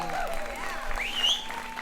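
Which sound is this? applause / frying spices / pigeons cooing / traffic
applause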